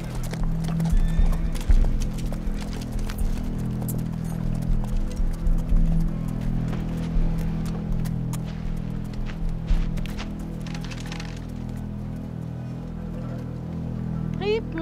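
Several horses arrive with steady clip-clopping hooves and occasional whinnies, close and continuous, while voices talk faintly in the background.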